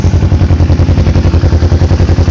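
A Kawasaki Ninja motorcycle idles with a steady, throbbing exhaust pulse on its first start, a loud, close, even engine beat with a slight clattery edge and no talking.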